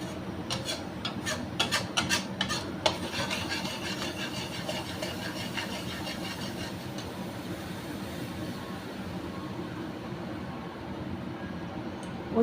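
Besan being stirred in ghee in a pan for besan halwa, a steady scraping and rubbing with a few sharper knocks early on, then continuous mid-level friction that carries on to the end with no talking.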